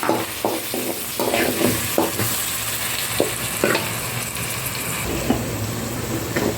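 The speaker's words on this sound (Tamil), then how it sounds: "வெங்காயம் போடுறேன். வெங்காயம் நல்லா வதங்கட்டும்." Onions sautéing in a pan for a crab gravy, a steady close sizzle with repeated scraping and stirring knocks of a spoon against the pan throughout.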